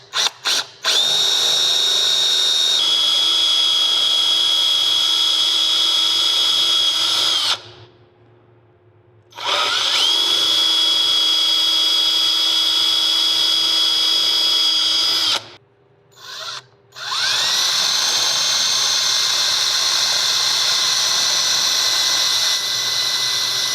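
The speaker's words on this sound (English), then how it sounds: "I'm going to try and do this in the camera. Like I said, I don't want to drill my hand" A power drill bores into a shoe sole in long, loud, steady whining runs, stopping twice briefly before starting again, with no talking.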